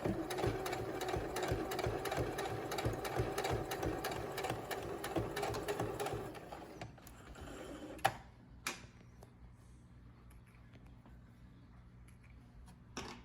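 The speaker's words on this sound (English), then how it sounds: "I'm gonna slowly sew those pleats down." A sewing machine stitches pleats down on a fabric face mask, running steadily and fast for about six seconds, then stopping, with a few faint clicks and handling noises afterward.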